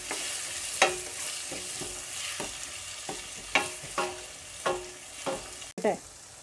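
Salted onions frying in a pan for Kerala-style aloo palak, stirred with a spoon: a soft sizzle beneath repeated sharp scraping strokes against the pan, close up, with no one talking.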